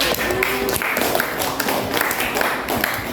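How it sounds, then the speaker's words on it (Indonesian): A classroom full of people clapping, dense and fairly loud, with scattered sharper claps throughout and no one speaking. "Baik sekali Rafsi, tepuk tangan untuk Rafsi."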